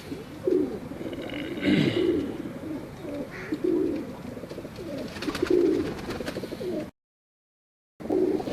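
Pigeons coo in soft, repeated throaty phrases close by, several birds overlapping in a steady murmur broken by a short silent gap near the end.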